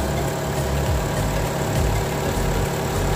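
A car engine idles steadily with a jump starter attached, a loud, continuous low rumble close by with no talk.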